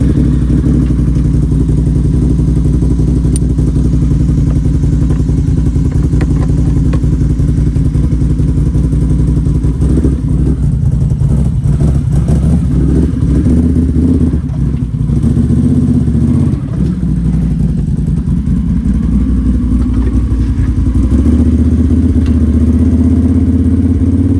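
A 2022 Can-Am Renegade 1000 XXC ATV with an HMF exhaust and ECU flash idles loudly and close by, with clattering, then revs up and down in uneven surges before settling.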